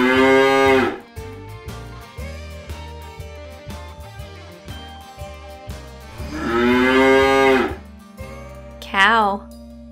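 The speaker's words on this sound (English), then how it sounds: "Cow." Cow mooing in a children's animal sounds guessing game, two long loud moos over a bouncy musical backing.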